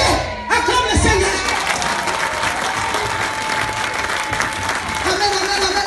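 A church crusade congregation claps steadily and loudly throughout, a dense wash of applause with scattered cheers and voices mixed in, while a held musical tone runs underneath.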